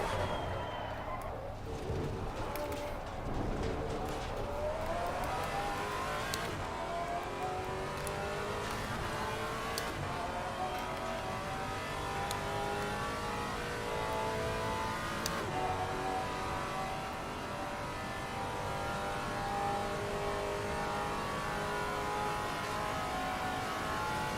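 Maserati MC GT4 in Assetto Corsa Competizione at Monza, its engine held against the limiter with a steady, loud, buzzing drone and rising harmonic sweeps, no voices over it.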